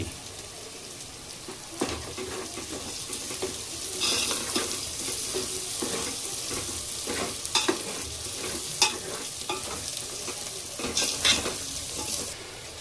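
Garlic sizzles and fries in a hot pan for Kathiyawadi-style rajma, a steady close crackle broken by repeated scraping stirs and a few sharper clinks, with no voices.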